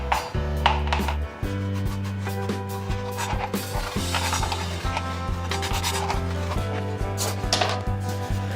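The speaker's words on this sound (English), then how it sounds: "we've given the rosemary a quick wash, so I'm just going to finely slice it" A knife finely slicing fresh washed rosemary on a board, a rapid series of crisp chopping taps and scraping rubs over a steady low hum, close and continuous.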